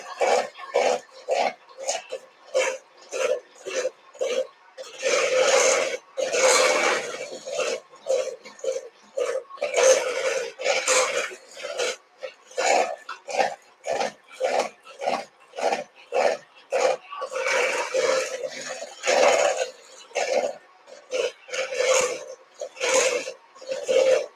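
Rapid rhythmic tapping and scraping, like a whisk or fork beating cake batter with eggs in a bowl, continuing steadily in close bursts with brief pauses.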